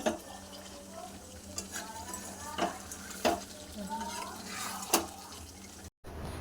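Mutton stir-fried with spices in a pan sizzles softly and steadily, broken by repeated sharp scrapes and clinks of a spatula against the pan, with a brief dropout just before the end.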